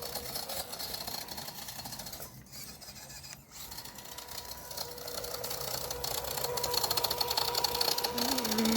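The small electric motor of an HPI Venture 18 RC car runs in first gear with a steady, buzzing whine like a sewing machine. It dips briefly twice, then holds a close, continuous drone with a rising tone near the end.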